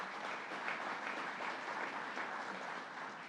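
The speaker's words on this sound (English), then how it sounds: "Let's give him a big round of applause." Applause from an audience at a government workforce training center announcement. Dense, even clapping fills the whole short clip at a steady level.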